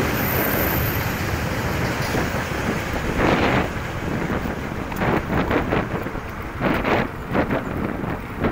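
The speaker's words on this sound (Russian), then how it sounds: "Ветер такой" Strong wind roars across the microphone during a bicycle ride in a city, a steady, buffeting rush with occasional louder gusts and no voices.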